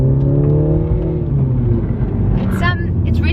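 A Mini GP3's engine hums steadily from inside the cabin while it drives, its tone rising slightly as it accelerates, with someone talking over it.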